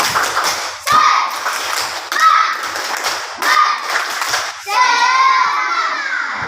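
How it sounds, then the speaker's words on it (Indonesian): Children in a primary class perform a rhythmic group clap, with bursts of sharp hand claps in patterned sets, chanting voices mixed in, and a sustained sung or chanted stretch near the end, fairly close and loud. "Tepuk semangat."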